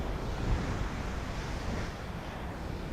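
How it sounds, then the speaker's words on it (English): Ocean waves wash in at Laguna Beach, California, a soft, continuous surf roar heard from a distance, with a gentle wind-like hiss and no voices. "connecting with this wonderful ocean behind us here in Laguna Beach, California"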